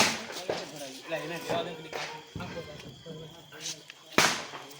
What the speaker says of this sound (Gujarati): એ ફટાકડા પડે એટલે જરા જોવા જો